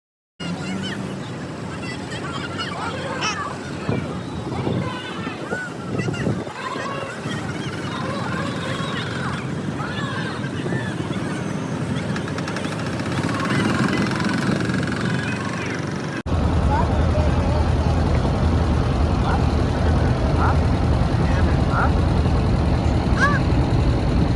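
A river boat ride at Prayagraj during the Maha Kumbh Mela 2025, with a steady engine drone and water rush throughout, growing louder and fuller in the later part, with crowd noise and occasional voices around.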